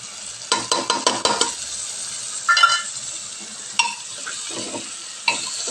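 Ginger, garlic and onion paste is stirred in a hot pan for a coriander chicken curry: a quick burst of rapid spatula scrapes, then a steady sizzle with a few scattered stirs, close and fairly loud.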